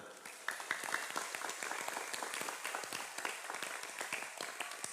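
An audience claps steadily for several seconds at an Islamic religious lecture, a dense patter of many hands that starts abruptly and holds at an even level.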